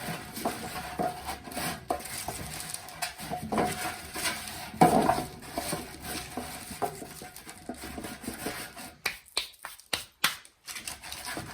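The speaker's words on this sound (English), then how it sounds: "you give them a little shake so they get coated in all the pepper" Sweet potatoes coated in pepper, shaken in a metal pan: repeated rattling, scraping and clinking pieces that build into a louder clatter, then a series of sharp knocks near the end.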